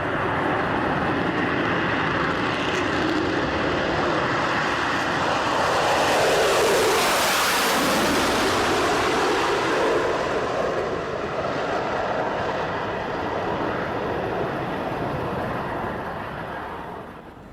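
An airliner departs runway 31 left at New York, a broad loud jet roar that swells to a peak midway and then slowly fades as the aircraft moves off.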